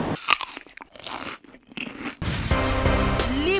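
Crunchy fried food is bitten into at close range, giving a few sharp crisp crunches, followed by a voice that is not talking.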